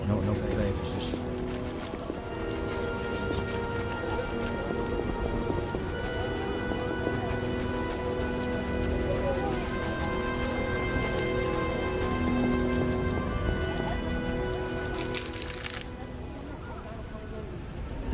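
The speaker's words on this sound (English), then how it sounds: "It could stop raining." Steady rain falls in The Witcher, a broad wash of drops running through the whole stretch under music and game ambience, with no one talking.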